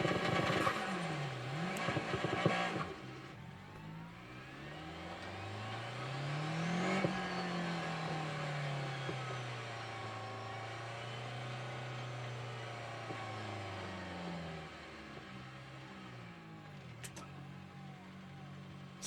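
A turbocharged rally car in the Assetto Corsa Rally game, set on a narrow dry tarmac stage in France, idles and revs up and down with turbo whistle and gliding engine tones, moderate and steady with no talking.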